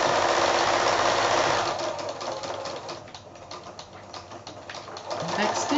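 A sewing machine runs steadily, stitching binding onto a quilted placemat, a loud continuous mechanical whir that eases slightly midway and then picks up again toward the end, with a voice speaking faintly underneath.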